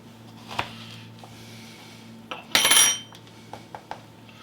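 A metal pastry tip pushed into an apple to core out the seeds, heard as a few sharp clicks and scrapes with one louder grinding scrape midway, close and alone.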